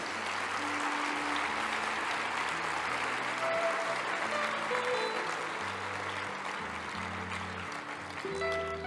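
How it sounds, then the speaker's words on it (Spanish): A large audience applauds steadily at an award ceremony, with loud, dense clapping held for several seconds. A soft musical background plays beneath it. "vamos con ese manantial de aplausos"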